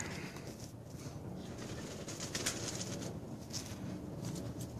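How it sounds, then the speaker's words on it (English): Pigeons or doves cooing outdoors near a spot where thorns are being removed, soft repeated coos over a steady background hiss and light patter, fairly faint and continuous, no talking. "Birds."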